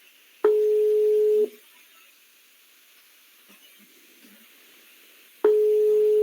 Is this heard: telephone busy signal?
yes